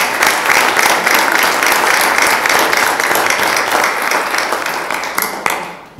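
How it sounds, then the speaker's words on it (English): Audience applause for candidate forum panelists in La Verne, a steady dense wash of clapping hands lasting several seconds before tapering off at the end. "Round of applause for our panelists."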